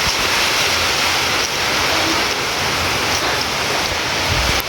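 Heavy rain pours outside as a steady, loud, broadband wash of water that soaks everyone, with no break and no voices.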